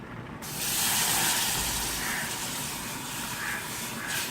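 A large glass of milk, about 400 ml, pours into a pan for white sauce, giving a steady continuous hissing splash that runs loud and unbroken throughout, with no talk.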